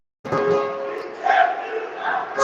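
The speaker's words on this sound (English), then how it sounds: "Sandheim being serenaded with a Bronx cheer here in Langenburg" At a Moosomin Rangers at Langenburg Warriors hockey game, the arena crowd jeers in a sustained, droning Bronx cheer that swells and dips over a couple of seconds.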